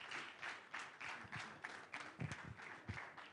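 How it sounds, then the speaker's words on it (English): An audience at a leadership and entrepreneurship event applauds to welcome a speaker, a quiet, somewhat distant round of clapping with rhythmic pulses and scattered individual claps, no talk over it. "Please put your hands together for Mr. Abel."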